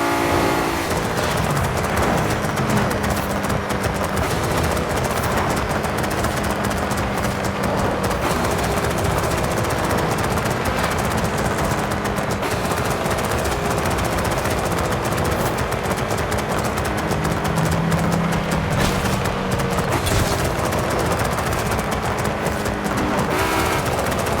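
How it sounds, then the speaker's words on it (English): A V6-engined GT race car revving hard, a dense, loud, continuous engine roar with rough, rattling texture and shifting pitch throughout, heard close and unbroken for the full length. "There's no way a V6 should be making those rev noises."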